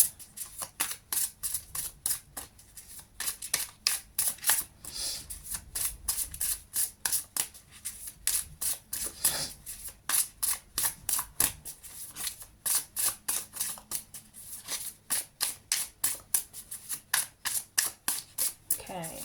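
Tarot cards being shuffled over and over, a steady run of quick crisp riffling snaps close up that continues alone for the whole stretch with no talking.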